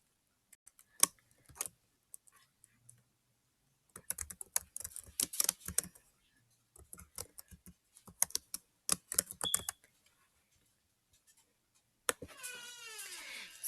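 Keys clatter on a computer keyboard as an assignment title is typed into Google Classroom, coming in quick irregular bursts with short pauses between them, close and fairly quiet, followed at the end by a brief soft swishing sound.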